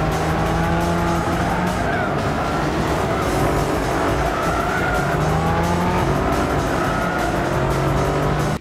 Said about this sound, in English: here is some footage of me really driving my car